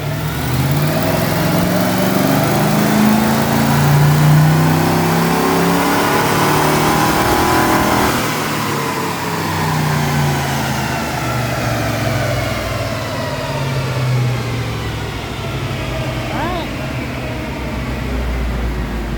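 A 1986 Ford Mustang with a swapped-in 302 V8 runs hard on a dyno, a loud continuous engine roar climbing and holding through pulls, easing off midway before building again, with no talking.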